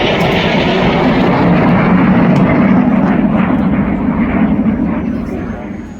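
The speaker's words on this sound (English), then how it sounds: "it's the Gazelle HD2 model that was used for 25 years" A Gazelle HD2 helicopter flies at the RAF Cosford airshow, a loud, continuous engine and rotor roar that stays steady before fading slightly toward the end.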